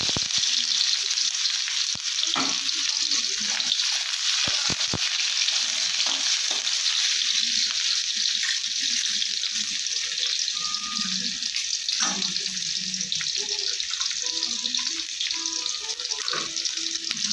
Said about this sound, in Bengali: তেল গরম হয়ে গেছে, খানিকটা পেঁয়াজ দিয়ে দিলাম।